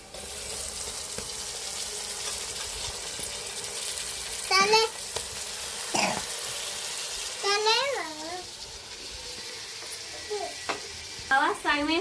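Chicken sizzles in a hot pan with turmeric for a home-style masala curry, a steady frying hiss with stirring under intermittent voices of adults and a child.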